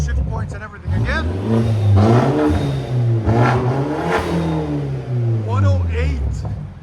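A 2018 BMW 530i with a 2.0L four-cylinder turbo and muffler delete revs in sport mode, the engine rising and falling in loud repeated surges, with talk over it.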